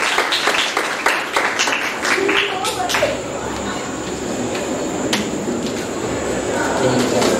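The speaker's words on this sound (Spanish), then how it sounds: "Un aplauso también para ella." Crowd applause fills the whole stretch, a dense steady clatter of many hands with voices mixed in, sounding like an indoor audience at a singing contest final.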